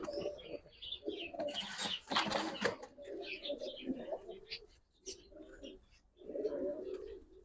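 Giribaz high-flyer and racing pigeons coo repeatedly at close range, soft throaty phrases coming in bursts with brief pauses, alongside faint chirps from other birds.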